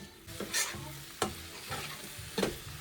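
Masala for a tomato fish curry sautés in a pan with a faint sizzle, while rhythmic spatula strokes scrape and swish about every half second, quiet and close, with no voices.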